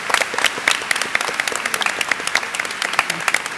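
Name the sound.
audience applauding senior class at convocation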